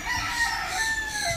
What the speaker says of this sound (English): even a rooster I can hear here